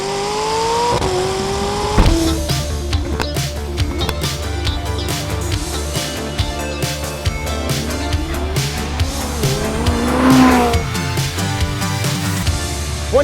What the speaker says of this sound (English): '19 McLaren 600LT. Coupe with launch control.